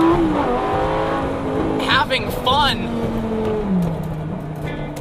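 A Lamborghini Gallardo engine revs loudly through a gear change, the pitch climbing, dropping sharply at the shift, then climbing again, with someone talking over it.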